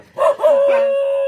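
A dog lets out a short, close yelp that stretches into a brief, steady howl, heard alone for just over a second.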